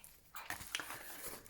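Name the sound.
dog slurping water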